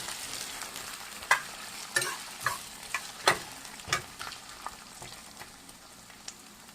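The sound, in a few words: bitter gourd deep frying in oil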